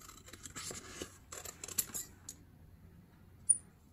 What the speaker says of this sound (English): so I'm gonna fussy cut out again